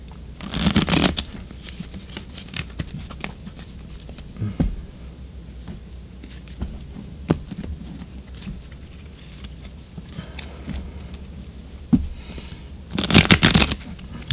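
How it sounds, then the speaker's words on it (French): Tarot cards are shuffled in short crisp riffling bursts at the start and near the end, with soft scattered card taps and handling clicks between them, close and fairly loud. "Je brasse les cartes encore un tout petit peu."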